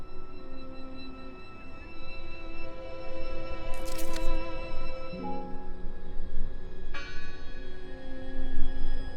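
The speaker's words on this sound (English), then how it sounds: "Listen! The bell!" A church bell tolling in the game Draugen, sustained ringing tones layered over a murky atmospheric background, with a sharp metallic strike midway and a second bright hit later on.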